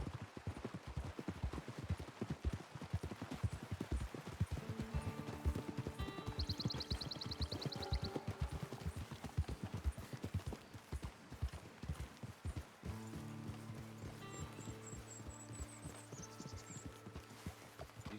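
Horse hooves clip-clop steadily in a Western-themed video game, a continuous rhythmic trot heard up close beneath background music.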